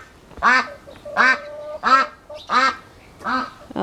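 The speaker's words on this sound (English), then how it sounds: "My ducks are probably driving my neighbours crazy a little bit." Backyard pet ducks quack loudly and close by on a spring morning, five evenly spaced raspy honking quacks with brief pauses between them.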